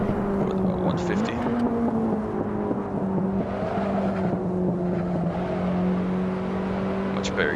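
A BMW E30 M3 lapping a track in Assetto Corsa, its engine holding a loud, steady droning note that climbs with each rev and drops sharply at a gear change, while someone talks over it.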